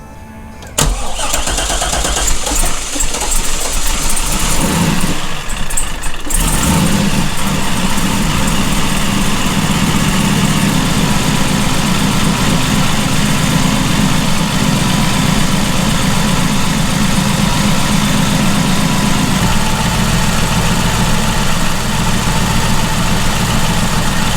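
A C5 Corvette on a new injector tune cranks and fires, then settles into a loud, steady, rumbling idle heard up close for a long stretch.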